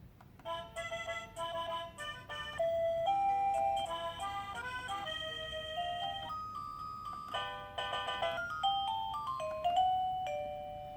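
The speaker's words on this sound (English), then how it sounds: "press skip back and forth on these buttons here will actually change the ringtone" A Laser smart video doorbell speaker cycles through a series of electronic ringtones, playing one chiming melodic tune after another with brief changes between them, clear and fairly close, with no talking.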